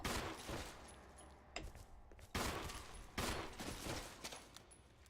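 Pistol gunfire in the survival-horror game Resident Evil HD Remaster, loud sharp shots in bursts, several reports at irregular intervals with ringing tails over game ambience.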